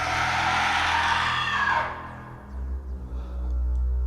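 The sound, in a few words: cryptid creature's scream sound effect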